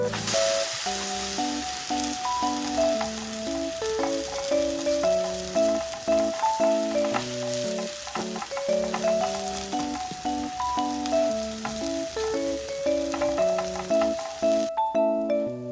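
Enoki mushroom pancake fries in a pan with a steady crackling sizzle beneath a bright, repeating melody of background music; nobody speaks.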